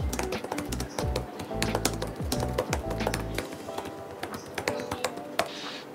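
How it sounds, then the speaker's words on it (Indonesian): Fingers type steadily on the keyboard of an Axioo Hype 5 laptop, a rapid run of close, crisp key taps with short pauses between bursts and no voices. "gue bisa merasakan feel satisfying dari ngetiknya"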